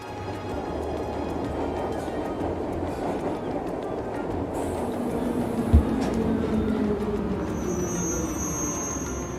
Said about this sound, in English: This is a tram, but it's not Roy's one.